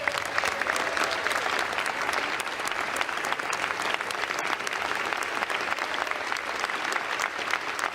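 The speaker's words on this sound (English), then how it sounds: "They're clapping for a" Sustained applause from a large assembly in the chamber of the United States Congress, steady and dense clapping for the full length with no speech over it.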